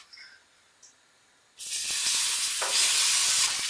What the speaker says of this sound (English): Now carefully add the yogurt mix.